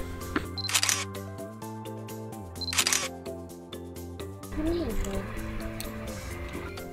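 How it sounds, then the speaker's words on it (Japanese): A Nikon Z5 or Z50 camera fires two quick bursts of rapid shutter clicks a couple of seconds apart while photographing a cat on an island. The clicks sit over a steady tonal background with voices. "今チルトモニターで猫の目線でカメラで撮ってます。"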